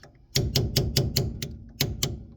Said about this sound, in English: now I'm going to switch to a roll pin type chisel